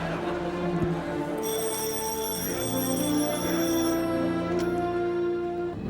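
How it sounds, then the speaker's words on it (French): A telephone rings on a French game-show set, a steady tonal trill that runs through the clip over a busy background of studio noise. "Et ce téléphone qui sonne."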